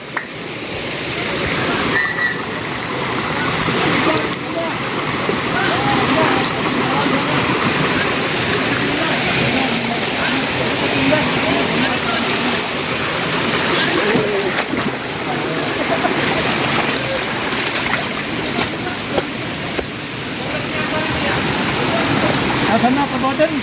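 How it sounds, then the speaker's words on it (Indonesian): River stream rushing steadily as hikers wade across on a trail to a Bogor waterfall, a loud continuous wash of flowing water with occasional splashes. "sekarang kita akan melewati aliran sungai yang ke-10 nih"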